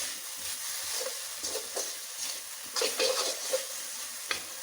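Elephant yam leaf thoran, a traditional Kerala dish, stirred in a pan: soft scraping strokes over a light background sizzle, close by and fairly quiet.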